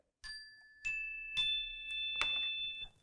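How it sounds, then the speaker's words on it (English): Several chime tones struck one after another, each ringing out clear and bright with long sustained overtones in a quiet room. "I have a set of chimes here"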